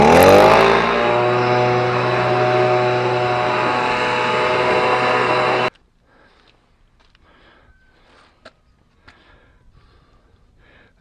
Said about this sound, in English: let's blow it out a little bit and accelerate the drying process